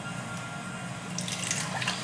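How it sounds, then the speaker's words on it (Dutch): Water pouring into a machine to clean it, a soft steady splashing flow that turns brighter and more trickling toward the end. "In ieder geval even water in gooien."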